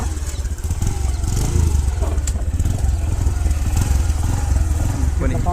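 Motorcycle idling with a steady low thumping engine rumble, close and loud, while someone talks over it.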